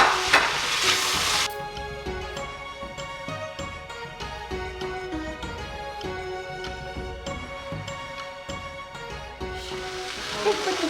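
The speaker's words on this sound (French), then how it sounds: "Mélange tous ces ingrédients ensemble." Ingredients stirred together in a hot pan, a steady sizzle with soft scraping strokes running throughout, louder bursts of frying at the start and end.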